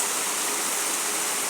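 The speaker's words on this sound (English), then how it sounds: "Water coming from all the way up in the hills." A stream of water rushes down from the hills in Jamaica, a loud steady broadband gush of flowing water with no voices over it.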